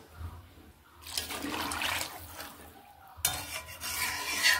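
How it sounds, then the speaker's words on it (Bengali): Potatoes with spices and added water stirred in a pan while cooking pabda fish curry, heard as two stretches of wet, swishing stirring with liquid sloshing, close and moderately loud. "আলু মশলার সঙ্গে জল মিশিয়ে নিচ্ছি।"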